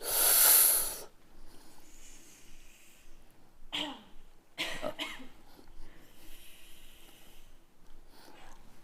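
A single loud cough bursts out at the start after tasting peppery olive oil, then quieter breathy sounds and a few short throat noises follow against a low background.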